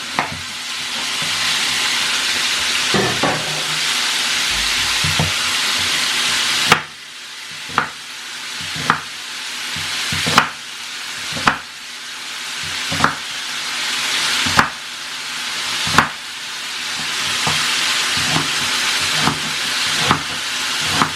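Pork neck meat frying in hot oil, a continuous loud sizzle and hiss near the pan, broken by repeated sharp knocks or stirs every second or two, with no voices.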